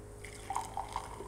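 Bulletproof coffee poured into a cup, heard as a few soft, separate drips and splashes over a quiet, low background hum.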